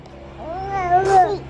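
A pet cat meows once in a drawn-out, rising and falling call, close and fairly loud, with a steady low hum underneath.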